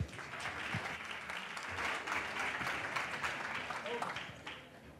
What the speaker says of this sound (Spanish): un fuerte aplauso para Pablo